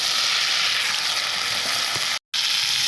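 Egg goes into a hot pan with fried eggplant and sizzles steadily and loudly up close, the frying hiss cut by a brief silent gap near the end.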